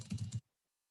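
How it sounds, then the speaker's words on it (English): A brief burst of rapid typing on a computer keyboard, close and fairly quiet, stopping abruptly into near silence. "Sorry about my typing."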